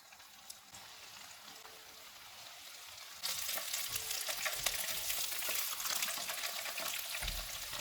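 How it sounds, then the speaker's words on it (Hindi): Chicken wontons deep-frying in hot oil give a soft, steady bubbling at first. It then grows into a louder, fuller hiss and crackle that lasts to the end, with no talking. "वॉन्टॉन फ्राई हो गए हैं।"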